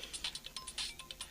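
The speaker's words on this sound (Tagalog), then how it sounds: "Ne, ti cellphone ni Yaya Claring." A cellphone ringtone chirps in a quick series of bright, repeating electronic tones, steady and fairly faint, with no voices over it.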